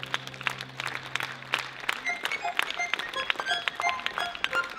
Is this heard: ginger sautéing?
no